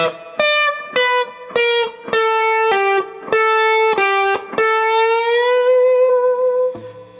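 Electric guitar playing a solo lick slowly, separate picked and bent notes spaced out in an even pace, driven tone, a long sustained final note, close with no talking.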